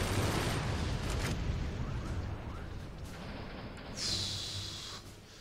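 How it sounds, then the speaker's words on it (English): Missile fire and explosions in the artillery strategy video game Forts form a dense, continuous rumble of blasts and bursts with a whooshing launch near the end, fairly quiet throughout. "Those explosions are just unnerving at the moment."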